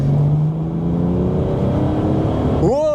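A BMW 635d diesel accelerating hard: a loud, close engine drone climbs steadily, then surges sharply in pitch near the end.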